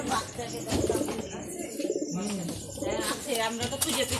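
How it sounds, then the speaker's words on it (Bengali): Pigeons inside a pigeon house cooing and chirping close by, with people talking over and between the calls in a rustling household setting. "নিচে দুটো পায়রা আছে"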